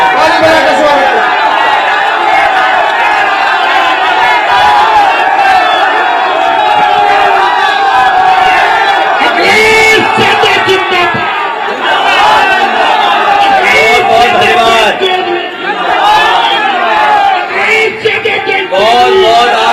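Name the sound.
crowd cheering and clapping at political rally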